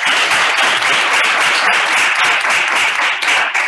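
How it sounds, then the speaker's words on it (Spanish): An audience at a youth debate forum applauds steadily and loudly for a few seconds, dense clapping with no break. "Un aplauso."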